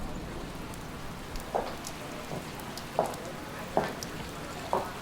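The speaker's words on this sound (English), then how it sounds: "God, I hate the rain." Rain falling steadily at an airport, a soft continuous wash with a few louder drops spattering at intervals, no voices.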